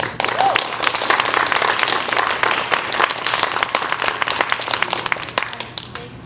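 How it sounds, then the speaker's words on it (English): Audience applause at a school board of directors' work session, a steady room-filling clatter of many hands clapping that holds for several seconds, with a faint voice briefly audible early on. "let's just give them another round of applause"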